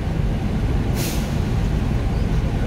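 Truck air brakes release in one short, sharp hiss over a steady loud engine rumble, close by with no talking.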